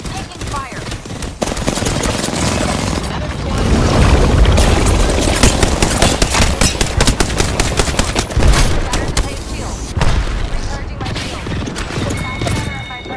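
Gunfire in Apex Legends, dense rapid automatic bursts and single shots rattling almost continuously for the whole stretch, loud and close, with in-game voice callouts underneath.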